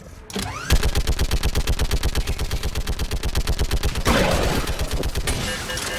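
A mounted gun fires in Mass Effect Legendary Edition: a loud, steady stream of evenly spaced rapid shots hammering for several seconds, with battle noise swelling in the background and no talk.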